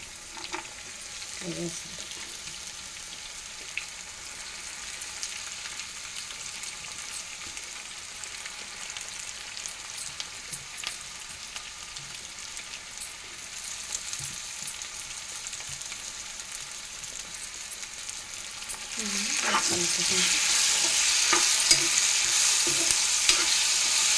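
Raw banana pieces fry in hot oil in a pan with a steady broadband sizzle, punctuated by occasional scraping stir strokes, growing louder and brighter near the end as the frying intensifies; no voices.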